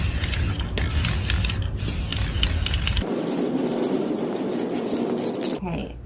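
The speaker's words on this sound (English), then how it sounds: "I'm starting by spraying the outside of them with espresso" An espresso-colored spray paint can hisses in a steady, close rush for a few seconds, then the sound shifts to a thinner, quieter spray.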